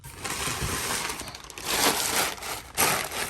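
Packing paper crumpled and stuffed into a small box while packing up a bedroom, a steady close rustling and crunching with louder bursts in the middle and near the end, and no one talking.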